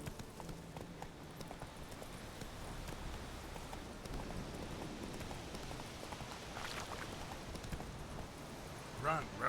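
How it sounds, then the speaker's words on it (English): The horse Roach galloping in the video game The Witcher 3, a steady faint drumming of hoofbeats with rain-like patter and a voice speaking over it. "Run, Roach."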